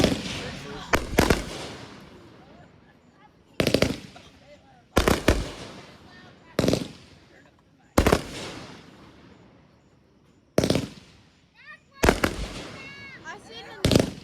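Fireworks burst outdoors in a row of loud, sharp cracks with echoing decays, several seconds apart, and voices talk between the blasts.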